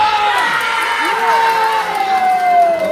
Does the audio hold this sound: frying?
no